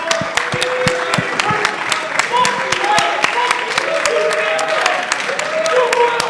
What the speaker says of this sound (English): let's have a round of applause for the people who are leaving.